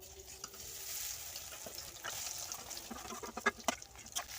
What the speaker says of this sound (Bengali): কড়াইতে তেল গরম হয়ে গিয়েছে আমি এই সয়াবিনগুলো ওই তেলের মধ্যে দিয়ে দেব